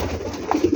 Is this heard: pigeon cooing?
yes